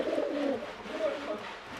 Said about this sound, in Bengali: ওইখানে একটা বিস্কুট পায়রা বসে আছে